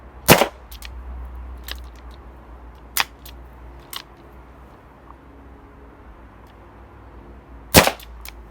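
Colt 1911 A1 Government pistol firing at a range, three sharp, loud shots spread out with pauses between them, along with a few fainter clicks and a quiet background.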